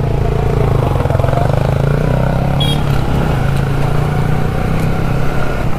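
A motorcycle rides off at the start of an Independence Day group ride, its engine a steady, loud, close mid-pitched drone with a continuous rumbling hum and no break throughout.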